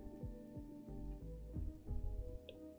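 Rain falls steadily in a video game, a soft continuous patter with a few louder drops, brief and fairly quiet.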